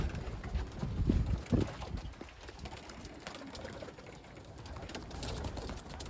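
Young racing pigeons flutter and flap nearby as they are let out, with bursts of wingbeats and faint cooing over a quiet outdoor background.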